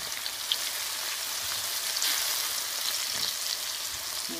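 Onion sautéing in a pan for Persian ghormeh sabzi stew, a steady close hiss of sizzling oil with small crackles and pops throughout, no talking.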